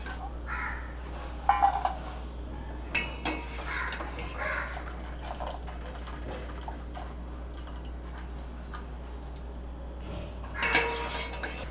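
Cooked white creamy pasta is lifted from its pot after the gas is switched off, with faint metallic clinks and utensil scrapes against the pot over a low steady hum.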